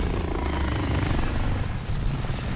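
A helicopter in the battle royale game Call of Duty Warzone whirs loudly and close, its rotor thumping steadily with a continuous engine drone throughout.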